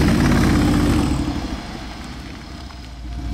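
Just after starting, a car engine fitted with an Akrapovic exhaust idles with a deep, loud rumble that settles from a higher rev to a steady burble, close by with no talk.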